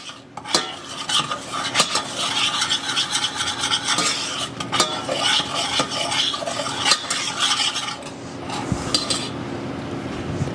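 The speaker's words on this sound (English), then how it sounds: "And I'm just going to stir that in." A spoon scrapes and clinks around a bowl while lemon curd is stirred together, making a steady run of close, busy scraping strokes with sharp taps now and then.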